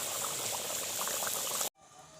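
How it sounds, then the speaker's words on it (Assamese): Vegetables with potatoes simmering in a pot beside duck meat cooking, a steady dense bubbling hiss filling the clip before cutting off abruptly near the end. "আমাৰ চব্জি উতলি আছে।"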